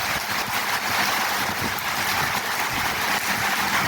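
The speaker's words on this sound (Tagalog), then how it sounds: "Ayan guys, oh, ang ulan. Grabe, oh, umiikot ang hangin, oh." Heavy nighttime rain with strong swirling wind, a loud, dense, unbroken roar of downpour and gusts buffeting the microphone, steady throughout with no voices.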